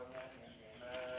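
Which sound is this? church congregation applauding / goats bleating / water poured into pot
goats bleating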